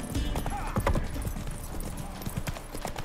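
Horse hooves clip-clopping in The Witcher 3 fantasy game, a loose irregular beat of hoofsteps on the ground, fairly close, with a brief voice and ambient game sound around it.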